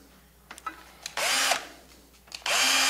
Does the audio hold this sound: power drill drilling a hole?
yes